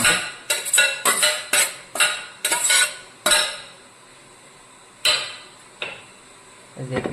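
A metal spoon scrapes and knocks against a pot while grated coconut is stirred into cooked cassava and squash, about a dozen sharp clinks in quick bursts, then a pause and a few more.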